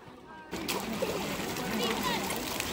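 Water splashes and sloshes continuously nearby, with children's voices mixed into the watery commotion.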